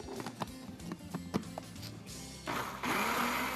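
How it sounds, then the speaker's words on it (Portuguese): Kitchen clatter and light taps lead into an electric blender mixing pineapple cake batter. The motor starts up near the end as a steady, moderately loud whir. "Nós vamos bater no liquidificador"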